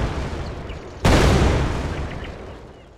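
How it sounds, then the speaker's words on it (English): Explosive barrels in Unreal Engine 4 detonate in a single loud, sudden game explosion whose roar decays slowly over a couple of seconds, with no voices. "Right, all of them exploded."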